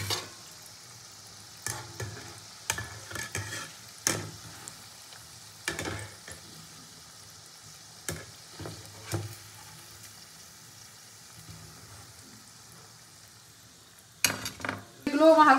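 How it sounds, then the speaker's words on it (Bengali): Chicken manchurian balls fry gently in oil over a low flame, with a soft steady sizzle broken by repeated clinks and scrapes of a utensil against the pan, and a louder clatter at the end. "মাঞ্চুরিয়ানগুলো কিন্তু আমি গ্যাসের আঁচ কমিয়ে দিয়ে হালকা আঁচে ভাজবো"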